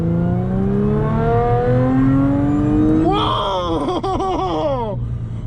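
A voice drones and rises, then a tuned 2014 Audi A6 engine roars in with sharp revs climbing and dropping over a few seconds, loud and close.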